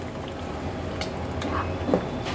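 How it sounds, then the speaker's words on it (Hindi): Beef being sautéed with spices in a pan gives a low, steady sizzle with a few soft stirring scrapes and faint utensil clinks, close and continuous with no talking. "तो अब हम इन मसालों के साथ इसकी थोड़ी देर भुनाई करेंगे गोश्त की।"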